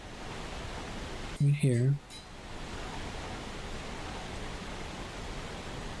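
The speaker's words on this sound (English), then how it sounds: "There's some interesting songs in my playlist that are just white noise." Steady white noise from a music playlist playing behind a video game session, a continuous even hiss filling the whole stretch, broken only by a brief spoken phrase.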